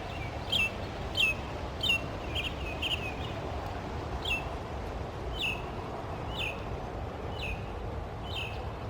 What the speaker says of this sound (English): That bird likes to sing.